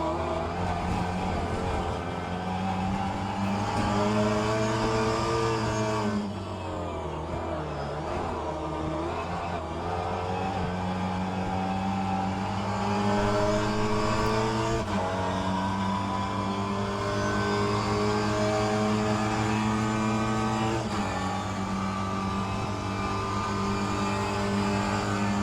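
Several Mini Cooper race cars in rFactor 2 at Sebring's club circuit drone in a steady, layered engine chorus, pitch dipping and climbing as they bunch up through corners, loud and continuous with no talk over it.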